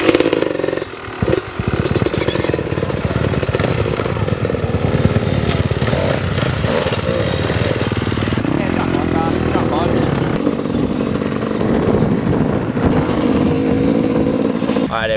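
Freestyle motocross motorcycles ride a raw session, engines droning loud and continuous for the whole stretch, with revs rising and falling and some voices talking underneath.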